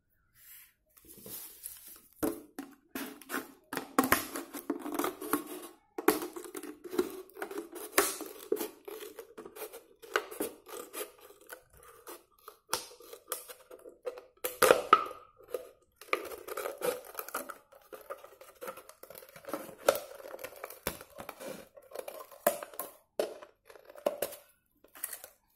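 A serrated kitchen knife saws through a plastic PET bottle, giving irregular scraping, crinkling and crackling strokes up close, with pauses between bursts and no talk.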